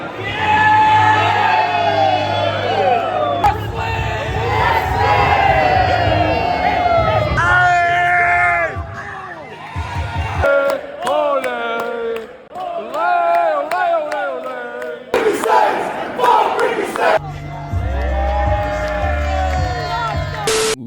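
A loud crowd at a House of Glory wrestling show cheers, shouts and whoops continuously, voices rising and falling in a dense roar with a few sharp bursts.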